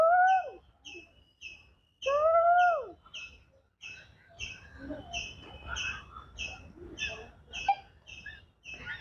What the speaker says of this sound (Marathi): कोकळ्याचा आवाज बघा, येतं काय ऐकायला.